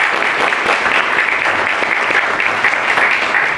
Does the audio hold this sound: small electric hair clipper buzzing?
no